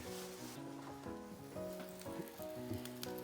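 Yam and purple sweet potato cake fries in a pan with a steady, close sizzle under soft tonal background music, with no speech.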